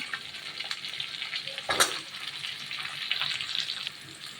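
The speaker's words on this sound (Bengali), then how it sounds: "সবজিগুলো ভাজা ভাজা হয়ে এসছে পর" Cut potato, pumpkin and eggplant fry in hot oil in a pan, a steady close sizzle with a brief louder hiss of stirring partway through.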